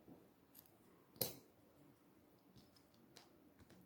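A single crisp snip of scissors cutting crochet yarn for a crocheted poppy bud, quiet and close, set against faint room noise with small ticks before and after.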